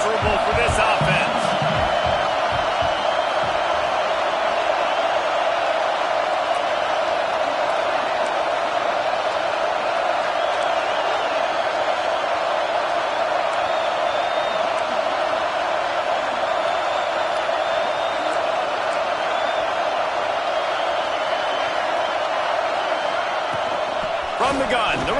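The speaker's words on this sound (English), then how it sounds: "Man, this crowd really affecting the football game." A home crowd roars continuously at an Alabama versus Clemson college football game, a loud, even wall of stadium noise that holds steady from start to finish.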